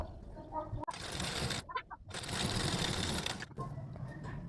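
A sewing machine stitches a blouse belt in two loud, close runs of fast, even whirring separated by a short pause, with no talk.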